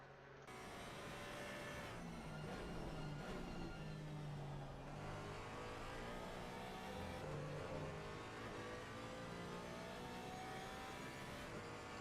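Porsche Cayman GT4 race car at Bathurst in a racing game, its engine droning and revving continuously with rising and falling pitch through gear changes, steady and fairly loud throughout.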